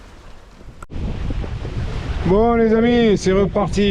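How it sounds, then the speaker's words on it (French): Steady wind of about 11 to 12 knots rushing over a microphone aboard a sailboat heeling under sail, a broad continuous roar with water noise, while someone talks over it. "allez, 12 nœuds de vent, 11-12 nœuds de vent"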